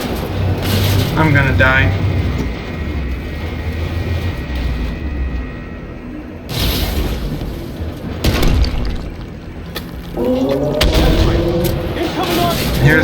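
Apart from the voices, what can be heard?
artillery fire in Armored Warfare video game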